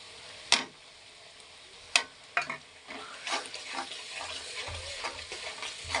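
Whole cinnamon, cloves and cardamom with spice paste frying in oil among reddened onions, stirred with sharp spoon scrapes early on, then a steady soft sizzle underneath.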